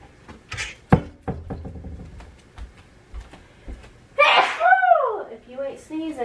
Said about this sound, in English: If you ain't sneezing, it ain't season.